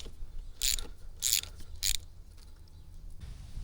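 Upper triple clamp bolts on a 2022 Honda CRF450RX motorcycle are loosened by hand with a ratchet, giving three short bursts of metallic clicking separated by quiet pauses, close and fairly clear.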